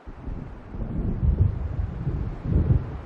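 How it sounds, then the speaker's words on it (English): Deep rolling thunder from an approaching storm in the video game Alan Wake Remastered, two low rumbling swells over steady wind-like noise, with no speech. "It seems there's a storm coming."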